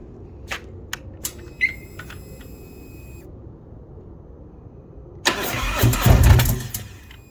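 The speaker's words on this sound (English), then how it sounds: "This is a cold start in the middle of January in Texas. And listen to the way this thing lopes." A few light clicks in near silence, then a 2018 Harley-Davidson CVO Street Glide with a TTS 175 cam cold-starts loudly in January, settling into a rough, uneven, loping idle.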